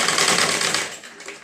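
A sewing machine runs fast in a steady rapid whir as it stitches blouse fabric along a marked straight line, then slows and trails off after about a second.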